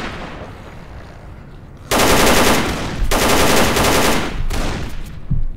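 A loud gun in the S.T.A.L.K.E.R. video game fires several rapid automatic bursts after a quiet ambient stretch, each burst close and harsh.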